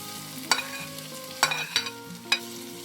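Vegetables for a capsicum paneer curry being stirred in a hot pan with roasted paneer masala, giving a low sizzle with a few sharp scraping clatters of the spoon against the pan, close and alone.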